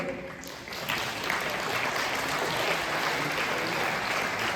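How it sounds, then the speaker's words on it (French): Children and coaches at a mini-basketball session clap for the winning team, a dense burst of applause rising after a brief quiet start and holding steady, fairly loud and close, with a few voices mixed in. "On peut les applaudir?"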